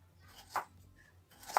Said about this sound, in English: If we have sharpened our knife, it should have cut this tomato easily.